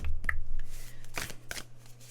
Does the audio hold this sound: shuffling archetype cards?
yes